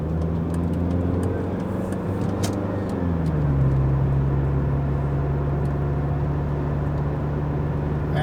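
A Saab 9000 Turbo hums along steadily from inside the cabin, its engine drone dropping in pitch partway through as if shifting gear, then holding an even, continuous tone under road noise.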